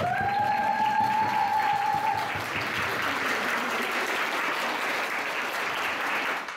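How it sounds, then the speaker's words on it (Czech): Steady applause from a festival audience at a vegan fest, clapping for the organisers; a sustained dense wash of many hands, moderately loud, with a brief trailing voice tone at the start and no clear talk over it. "pojďme jim zatleskat"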